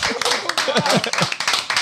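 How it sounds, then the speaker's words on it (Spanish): Applause in a Dominican church gathering: scattered hand claps sound over speech, with a voice talking through the short stretch and irregular clapping bursts. "Vamos a dar un fuerte aplauso al Cándara."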